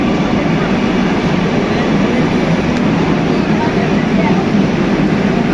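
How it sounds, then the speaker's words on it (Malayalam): A train pulling into a station, a loud, steady low rumble and roar that fills the whole stretch without a break, close by and constant. "ഞങ്ങൾക്ക് പോകാനുള്ള ട്രെയിൻ വരുന്നുണ്ട്."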